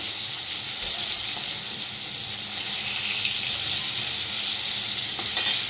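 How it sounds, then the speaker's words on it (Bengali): Chopped pointed gourd (potol) frying in a pan gives off a steady, bright hiss of sizzling oil, constant and unbroken with no talk. "এই যে এখানে পটল কেটেছি ভাজছি পটল"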